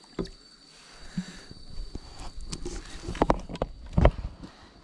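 Irregular splashes and knocks of oars rowing a boat on Bulusan Lake, a few louder strokes near the end, with a faint steady hum in the background; no talking.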